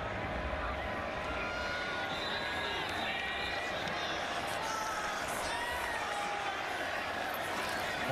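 The stadium crowd roars steadily at a low-scoring, hard-hitting Florida State vs Miami college football game, forming a constant wash of noise under a commentator's voice.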